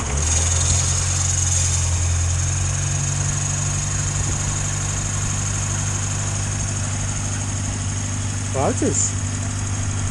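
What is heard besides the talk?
Morris Minor car engine idling after oil change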